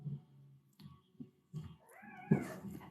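Indoor cats meow and make short whining cries in scattered bursts. A louder, drawn-out yowl near the end is quite close and fairly quiet overall.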